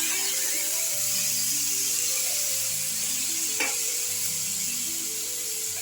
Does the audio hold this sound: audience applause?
no